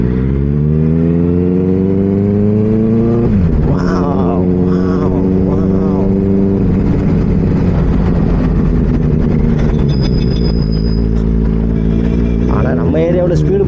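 Benelli 600i motorcycle fitted with an Ixil X60 exhaust, loud and close, idling with a deep rumble and then revved in several sharp throttle blips, with a voice talking over it.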